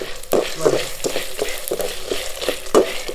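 Sundakkai, dried turkey berries, sizzle in hot oil in a pan, with a steady crackle punctuated by several sharp scraping stirs at irregular intervals, close and fairly loud.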